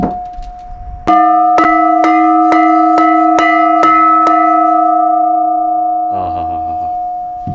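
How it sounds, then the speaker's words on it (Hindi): A large temple bell at a Narasimha temple in Harsil Valley struck about seven times in a steady rhythm, each ring overlapping into a sustained metallic hum that slowly fades, close and loud. "तो ये थी वो घंटी जो मैं आपको दिखाना चाह रहा था, सुनाना चाह रहा था"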